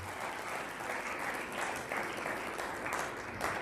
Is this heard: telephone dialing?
no